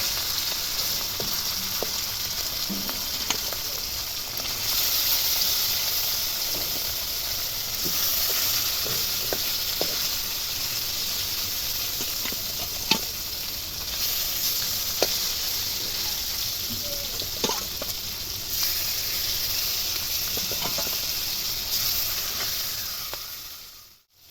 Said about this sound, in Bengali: বাকি পিসগুলো একইভাবে ভেজে নেওয়া হচ্ছে